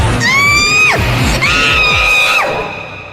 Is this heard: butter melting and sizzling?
no